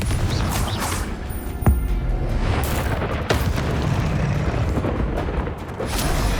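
A Confringo blasting curse explodes in Hogwarts Legacy gameplay, a dense roaring blast with a few sharp bangs over a constant loud rumble of game noise.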